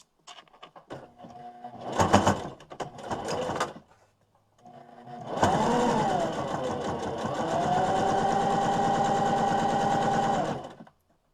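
Sewing machine stitching a quarter-inch seam on a fabric face mask. A short stitching burst and some handling sounds come first, then a longer steady run of the motor, close and fairly loud.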